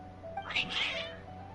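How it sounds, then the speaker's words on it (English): A cat in the video game Genshin Impact lets out a sharp, agitated meow, close and fairly loud, followed by a second rising cry against quiet ambient game music. "Your cats seem pretty worked up."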